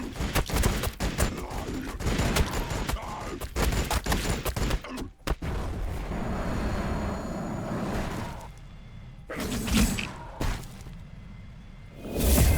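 Gunfire and explosions in the Warhammer 40,000: Battlesector strategy game, a dense fusillade of shots, whooshes and impacts that continues, thins out, then returns in loud separate bursts.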